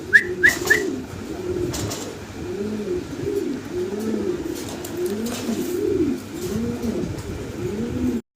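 Fancy jumbo-sized nine-feather pigeons coo in a loft, deep rounded throaty calls repeating in a steady rhythm, close and clear, with a few brief higher chirps at the start.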